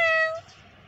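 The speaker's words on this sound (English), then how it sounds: "Yes, there's a cat." A pet cat gives one short, clear meow up close, bright and tonal, fading quickly into quiet background.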